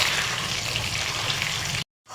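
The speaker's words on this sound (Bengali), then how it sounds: "একটা একটা করে মাছগুলো দিয়ে একদম লাইট ফ্রাই করে নেব।" Pieces of fish fry in hot oil in a wok, giving a steady, close, dense sizzling hiss that cuts out abruptly near the end before faintly resuming.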